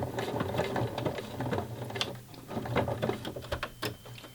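A sewing machine runs a short burst of stitches while attaching elastic to fabric for a wrap-around bra, its steady rapid needle chatter close and continuous with a brief slowdown partway through.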